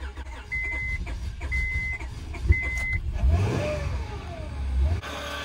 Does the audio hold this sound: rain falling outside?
no